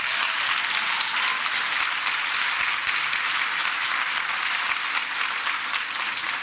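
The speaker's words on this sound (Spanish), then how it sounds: "Denle un aplauso al Señor" A church congregation claps in steady, dense applause that fills the room evenly from start to finish, with no voices rising above it.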